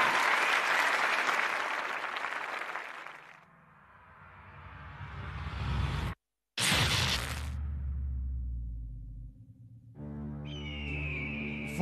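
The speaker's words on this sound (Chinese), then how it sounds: "让我们掌声有请" Loud, dense crowd applause greets a red-corner fighter's entrance at a Wulin cage-fight event, fading after about three seconds into a rising whoosh, then booming music hits and a bright tonal sting.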